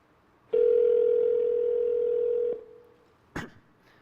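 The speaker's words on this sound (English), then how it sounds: "I'll call his mobile number right now." An iPhone outgoing call tone from 2007: a single steady ring tone held for about two seconds, then a short click-like sound afterward, clear and close.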